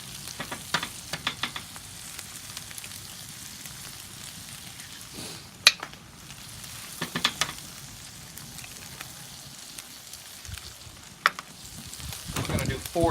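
Eggs sizzle and fry on an oiled Santa Maria grill cooked hibachi style, a steady crackling hiss broken by occasional scraping and tapping of utensils on the hot surface.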